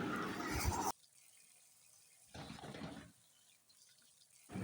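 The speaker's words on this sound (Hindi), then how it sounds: "मैं इसको एक छलनी में डाल रही हूँ और साथ ही मैं इसको पानी से धो रही हूँ" Hot tap water gushes over sacrificial meat in a sieve, loud splashing bursts that stop and start in short stretches with quiet between.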